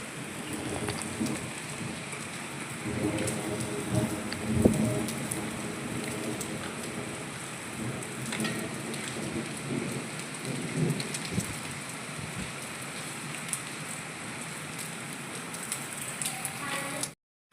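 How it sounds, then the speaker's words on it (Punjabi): Heavy rain pours down steadily in a storm, drumming on surfaces, with low thunder rumbling now and then. "ਮੀ ਕਿੰਨਾ ਆ ਗਿਆ ਦੇਖੋ"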